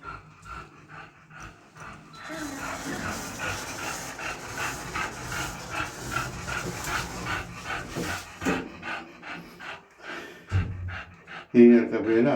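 A dog pants quickly and heavily close by after a walk, with rhythmic breaths that go on under a person's intermittent talking.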